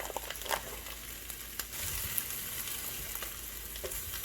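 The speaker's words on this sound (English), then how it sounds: "As your burger begins to cook, you'll just place it into the sourdough bread" A burger frying in a pan with cheese on sourdough bread gives a steady close sizzle with soft crackles and a few small clinks and stirring sounds, and no voices.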